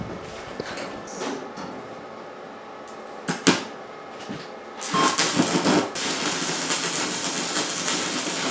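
Bent scrap metal pieces being welded together: a few knocks and clunks first, then a sustained harsh, crackling hiss that starts abruptly and carries on steadily at close range, with no talking.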